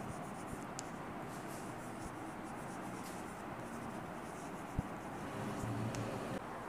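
A pen scratches and scribbles across paper as an English application letter is written out, the faint scraping strokes set against a constant hiss of room noise.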